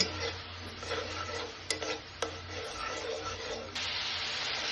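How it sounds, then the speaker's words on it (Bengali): Cumin and garlic paste with salt sautéing in a pan, a steady soft hiss with a couple of sharp stirring clicks, then a louder sizzle swelling near the end; no talking. "মশলাটাকে একটু আমি ভালোভাবে কষিয়ে নিব"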